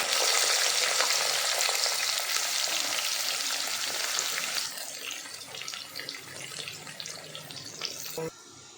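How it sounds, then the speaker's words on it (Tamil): Onions fry in hot oil with cinnamon and cloves for chicken biryani, a loud, dense, close sizzle that softens partway through, with occasional stirring scrapes and a sharp knock near the end. "இப்போ வெங்காயம் நல்லா வதங்கிருச்சு"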